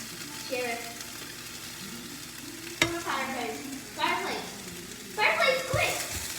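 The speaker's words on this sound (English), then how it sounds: "a little bit more time on low. Let that simmer up." Fish taco filling simmering on low heat makes a soft, steady sizzle under a voice, with a few louder bursts of stirring and scraping in the pan, close by.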